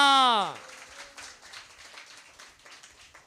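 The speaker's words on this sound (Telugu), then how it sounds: "గట్టిగా చప్పట్లు కొడదామా?" A church congregation bursts into loud, sustained clapping right after a sung or spoken tone fades, the applause continuing as a dense, steady patter for about three seconds.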